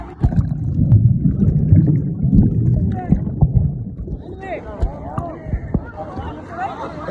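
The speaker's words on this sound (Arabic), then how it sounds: "سحبتني الموجة." Wave rolling and splashing through a water park wave pool, a churning rush of water beneath lively children's shouts and nearby talking, fading into scattered splashes and squeals.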